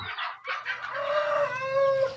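KUB chickens, an Indonesian native breed, cluck and squawk close by, a few short calls rising into a long, loud, drawn-out cry with no one talking.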